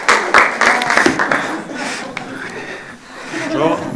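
A congregation in a church applauds with scattered, moderately loud clapping that fades out over a few seconds, mixed with light laughter and voices.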